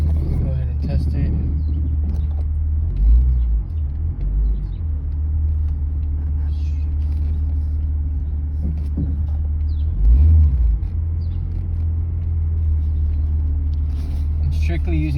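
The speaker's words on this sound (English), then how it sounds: "let's go ahead and try to reverse back onto my driveway." A 2007 Ford Mustang reverses slowly onto a residential driveway, its steady low engine rumble continuous throughout with a couple of brief louder surges, while a person talks over it.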